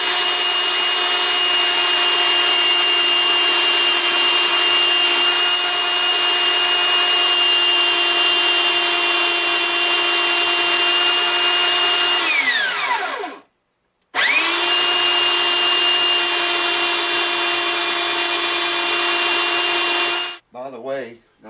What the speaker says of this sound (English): I'm going to grind everything exposed there.